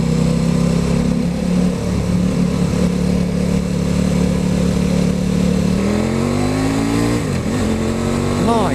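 KTM RC8 sport motorcycle with an 1100cc engine, loud and close, holding a steady drone before climbing in pitch as it revs toward the end.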